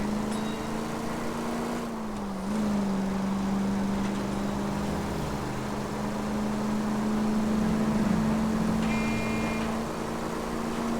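A car in the video game L.A. Noire drives and takes a jump, its engine holding a steady loud drone with slight pitch dips, close and continuous throughout.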